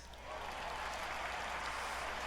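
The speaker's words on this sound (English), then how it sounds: "Gale Sayers, touchdown! And the crowd goes wild." A stadium crowd at an American football game roars and applauds after a Chicago Bears touchdown against Detroit, a broad steady wash of cheering that swells in and holds at moderate loudness.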